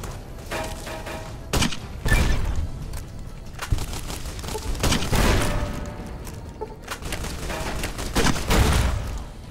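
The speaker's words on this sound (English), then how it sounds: "They're shooting through the wall or something." Enemy gunfire in the game Fallout: New Vegas, with shots punching through a wall in repeated thudding bursts and volleys, fairly close and loud, with no talking.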